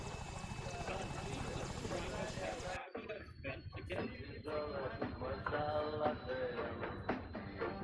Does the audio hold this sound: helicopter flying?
yes